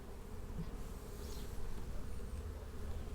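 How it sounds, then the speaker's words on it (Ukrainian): A honeybee colony that has overwintered in a hive hums with a steady, dense buzz, close and continuous, no voices over it. "Це бджолина сім'я, яка перезимувала."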